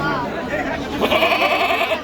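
A Totapuri goat bleats close by in a short, wavering cry, with faint background murmur of a livestock market around it.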